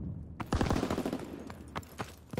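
Rapid covering gunfire in a multiplayer shooter game, a dense burst of automatic shots starting abruptly and running on with a few louder separate cracks near the end, close and loud.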